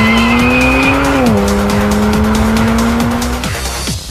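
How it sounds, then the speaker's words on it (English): A BMW Alpina B3 GT3 race car with an Akrapovic exhaust drives hard, its engine droning loud and close as the pitch dips on a shift and then holds steady, with tires squealing along the way. "We developed an exhaust system together with Akrapovic and saved 11 kilograms. We achieved a great sound and 8 horsepower more."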